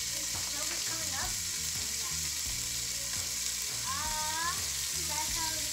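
Pork ribs searing in a hot pan give a continuous close sizzle and frying hiss throughout, with faint voices in the background.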